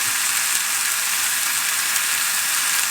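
Steady, loud sizzling of food frying in a pan, a continuous crackling hiss with no talking, in an off-grid kitchen.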